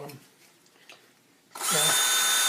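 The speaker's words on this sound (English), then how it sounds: "it has 2 holes you're going to drill here" Quiet talking fades out, then a power drill suddenly whirs loudly and continuously at close range for the last second, drilling holes in a stunt helmet.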